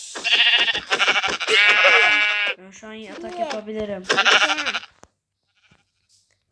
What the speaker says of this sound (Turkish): Koyun.